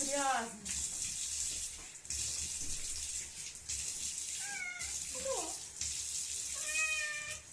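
Cat meowing repeatedly during a wash under running water from a tap, plaintive rising and falling cries over the steady splash, with a person's voice speaking softly nearby.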